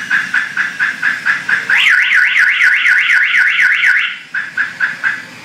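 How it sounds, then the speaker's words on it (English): A loud electronic security alarm siren on an enclosed trailer chirps in a steady pulsing rhythm, switches to a rapid warbling whoop for a couple of seconds, then returns to pulsing. "when the alarm sounds, there's a siren on the inside and outside"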